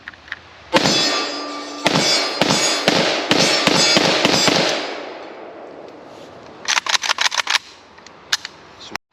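A Polish WBP AK rifle fires outdoors in loud, sharp, echoing shots. A rapid string of close reports comes first and trails into ringing decay, followed later by another quick burst and a few single shots.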